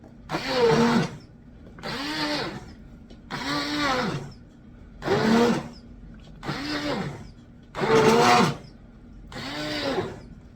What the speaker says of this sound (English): I just used the immersion blender and got that all blended around